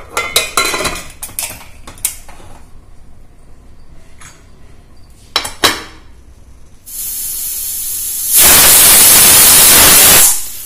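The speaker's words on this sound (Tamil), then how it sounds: "இப்போ நம்ம குக்கரை மூடி 1 விசில் வந்தோடனே 5 நிமிஷம் கழிச்சு ஆஃப் பண்ணிடலாங்க." Pressure cooker of banana flower biryani on the stove: clattering utensil knocks and lid handling, then a loud sustained hissing whistle of steam that builds and holds for the last few seconds.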